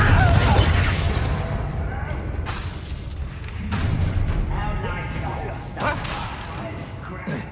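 Confringo spell blasts in Hogwarts Legacy, several heavy booming impacts and crackling bursts over rumbling combat noise, with voices speaking throughout.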